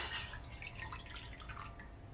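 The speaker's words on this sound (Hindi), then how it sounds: "1 कप वाटर वो ऐड कर दूंगी" Water pours and splashes into a pan for sugar syrup, a soft continuous trickle heard up close at low level.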